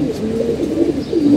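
A small flock of four or five pigeons out in foggy weather gives low, throaty coos that roll on continuously, fairly close and clear.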